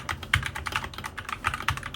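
Keys clatter on a budget KBM Gaming TG600 mechanical keyboard fitted with Gateron switches, a steady run of quick, crisp clicks with a few heavier strokes, close and clear with no talking.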